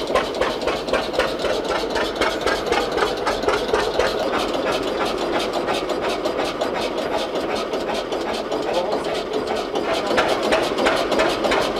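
A small narrow-gauge locomotive engine chugs and rattles steadily with rapid mechanical clatter, loud and close throughout.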